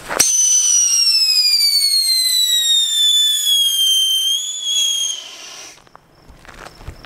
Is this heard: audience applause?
no